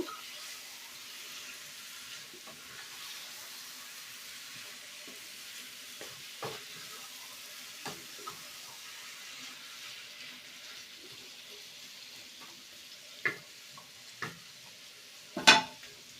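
Chicken and potatoes are stir-fried in a pan under a steady, soft sizzle, broken by occasional spatula scrapes and a few sharper metallic knocks that grow louder toward the end.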